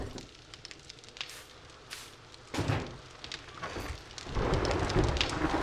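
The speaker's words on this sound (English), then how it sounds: "Here come the thunder." Thunder rolls through a storm in the survival game 7 Days to Die, a low rumble that swells louder toward the end, with rain hiss and crackling underneath and no talking.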